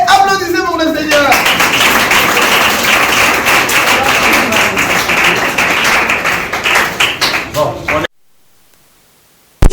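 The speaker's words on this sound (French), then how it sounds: "Allez, applaudissez pour le Seigneur." Congregation clapping at a Christian youth mission gathering, a dense sustained burst of hands lasting several seconds before cutting off to near silence, with a voice briefly heard at the start.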